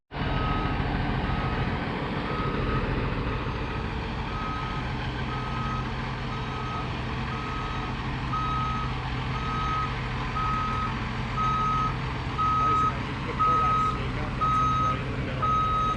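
A truck delivering a septic tank rumbles steadily while its backup alarm beeps in an even, repeating rhythm, growing clearer partway through.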